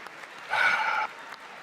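A short burst of applause, about half a second of clapping from a small audience, fairly faint and distant.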